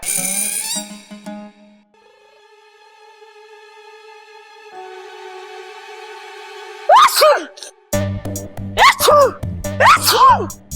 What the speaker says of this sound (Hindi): अब छींकता ही जा रहा है